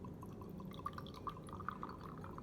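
A prepared solution in deionized water trickles and drips into a small glass beaker, faint and close, with light splashes and glassy clinks over a quiet background hum.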